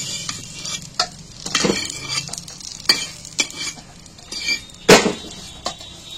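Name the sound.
fried fish roe slices being lifted from the frying pan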